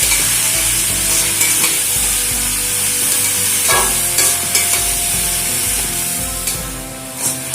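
Young ash gourd stir-fried with spices, salt and shrimp in a pan, a steady close sizzle broken by repeated spatula scrapes and clatters, no one speaking.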